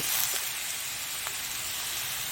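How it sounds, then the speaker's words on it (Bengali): Boiled banana flower and potato sautéing in a hot pan for chops, with a steady, close hiss and sizzle across the short stretch and a couple of faint ticks. "এবারে সিদ্ধ করা মোটা এবং আলু এর মধ্যে দিয়ে দিচ্ছি এটা কষে নেব"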